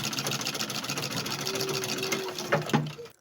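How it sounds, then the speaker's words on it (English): A home sewing machine runs a steady seam along the hem of an A-line dress, a continuous mechanical whir with a brief pause and restart near the end. "Now I'll continue to sew it to the hem line."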